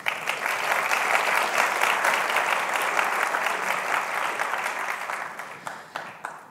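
An audience at a fashion talk in Oman gives a round of applause for Carla Fendi's words, dense clapping that begins strongly, holds, then thins and fades toward the end.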